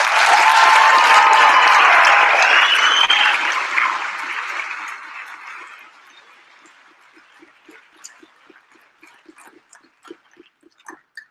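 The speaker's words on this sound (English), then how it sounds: "The Braille Institute staff, please, round of applause." An audience at the Braille Challenge ceremony gives a round of applause for the Braille Institute staff, loud and full at first, then thinning over several seconds until only a few scattered claps remain.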